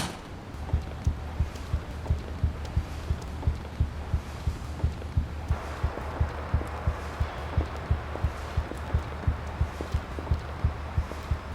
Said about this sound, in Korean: 형우의 심장 박동은 빨라져만 갔고